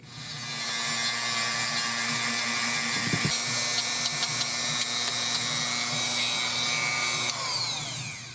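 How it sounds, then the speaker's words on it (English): A Dremel rotary tool grinds steadily at a makeshift bottle cork, a loud continuous high whine with small bursts and catches as the bit bites into the material. "The good old Dremel."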